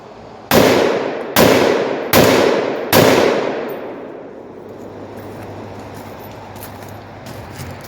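Four loud, sharp rifle shots fired at a steady pace from a Scar 17S or AR-10 using 150 grain ammunition, each with a ringing tail, followed by a quiet outdoor lull and faint distant pops.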